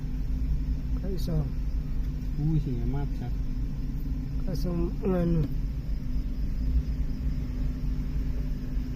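A heavy sugarcane truck rumbles past at night on a rural road, a low, steady engine drone that stays constant throughout, with people chatting nearby over it.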